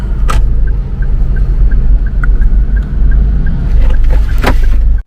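Dense road traffic with many cars, a steady loud low rumble close around, with a rhythmic ticking running through it and a few sharper bursts, no voices.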